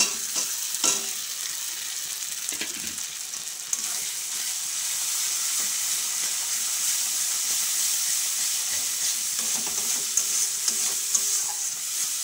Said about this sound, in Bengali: মশলাটা এবার আমি ভালো করে একটু কষিয়ে নেব